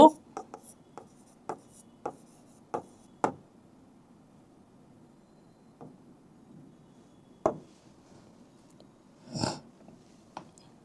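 Chalk or pen writing out a chemistry reaction process during a school lesson on minerals and fossil fuels: a series of sharp taps and short strokes, spaced irregularly, with a brief scratchy scrawl near the end in a quiet room.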